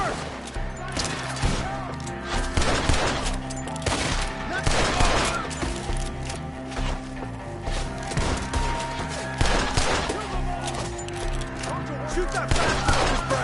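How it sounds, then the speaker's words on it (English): Gunfire from a Red Dead Redemption 2 shootout rings out in dense, overlapping bursts of shots and volleys that keep going under loud, excited talk and game music. "Shoot the ones up there first!"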